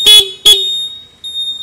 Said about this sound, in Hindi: हॉर्न सुन लिए इसका कैसा साउंड है